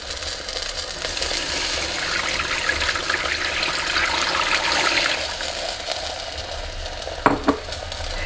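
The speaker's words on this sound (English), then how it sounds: "add the additional bone broth to the bottom of the pan" Bone broth pours into a hot turkey roasting pan and sizzles and hisses steadily, with liquid splashing for several seconds, followed by a couple of brief metallic knocks near the end.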